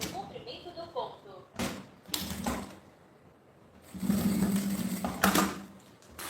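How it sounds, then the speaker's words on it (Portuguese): A sewing machine stitches a seam joining lining and padding on a fanny-pack bag, in two short whirring bursts with quiet gaps between them. "Passa costura aqui. Aumente o comprimento do ponto."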